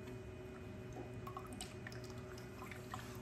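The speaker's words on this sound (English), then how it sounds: "Look at it rocking that water. This tiny little pump." A small 4-watt nano aquarium return pump pushes water in a steady, quiet wash with faint dripping and trickling detail, continuous and fairly close throughout.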